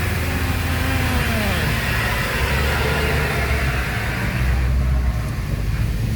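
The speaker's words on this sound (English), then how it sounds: "an old bus was passing loud, and it is now scattering diesel everywhere on my face" An old diesel bus passing loudly at a Nairobi bus stop at night: a steady, rough engine drone with a low rumbling undertone that swells slightly near the end, heard alone without talk.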